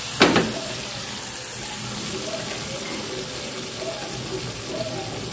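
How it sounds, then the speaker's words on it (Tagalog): Hot water pours into a pot for cooking sweet potato, with a brief splash at the start and then a steady, soft trickle of water continuing beneath low background noise. "Lagyan ko ng konti para maluto yung kamote."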